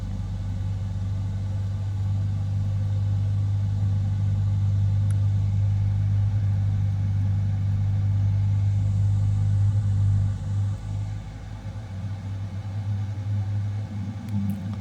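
Boeing 777-300ER engine starting in Microsoft Flight Simulator 2024, a steady deep droning rumble with a strong low hum that holds constant and loud throughout, with no voices.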